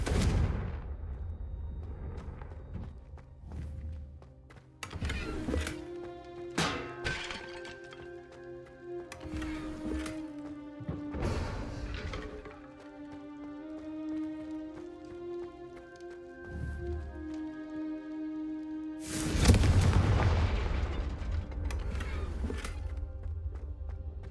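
Blasting spell explosions from the video game Hogwarts Legacy go off in a rapid series of sharp booms over steady orchestral game music, with one heavier blast near the end.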